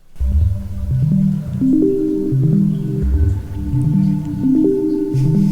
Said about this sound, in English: listen to what happens if I play from low to high staggered notes